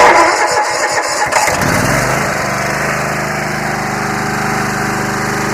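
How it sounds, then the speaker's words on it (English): A Yard Machines lawn tractor engine cranks with a few rapid chugging turns, catches and settles into a steady loud idle, close by. "I'm gonna pull on the cable, and I'm gonna see if the starter turns."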